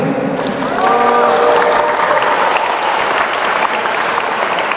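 An audience at a pencak silat sharing session claps together in loud, dense applause that holds steady throughout, with a brief murmur of voices near the start.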